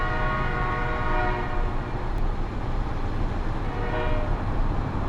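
Steady, loud train rumble in American Truck Simulator, a dense rolling rail noise with tonal horn layers sustained throughout, no voices over it.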